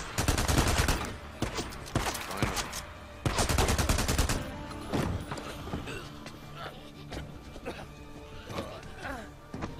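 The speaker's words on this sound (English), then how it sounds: "Who's shooting?" Bursts of gunfire in the video game Days Gone, loud rapid volleys early on, then scattered shots and clatter over a steady background.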